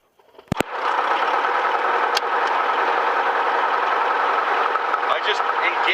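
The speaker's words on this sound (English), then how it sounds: "I just engaged the rotor system." A helicopter starts up with its rotor system engaging: a sharp click, then a loud, steady engine whine and drone that rises quickly and holds, with a few brief ticks over it.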